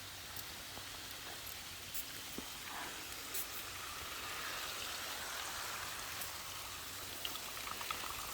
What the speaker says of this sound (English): This one here is spurting over here somewhere.